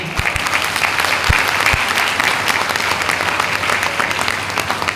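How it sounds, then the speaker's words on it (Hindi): Loud, sustained applause from the audience at a product training session, honouring farmers; dense, continuous clapping at an even level with a few sharp louder claps near the start. "तो एक बार मेरे किसान भाइयों बहनों के लिए जोरदार तालियां"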